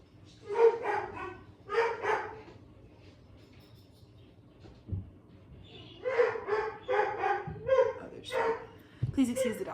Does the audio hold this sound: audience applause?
no